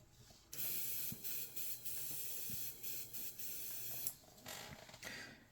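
An airbrush sprays in several bursts to flush out its paint cup, a close, loud hissing air stream broken by short pauses and clicks, with no talk over it.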